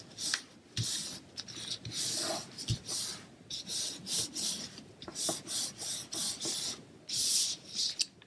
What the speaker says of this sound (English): I'm going to center this, and then I'm going to give it a good rub down.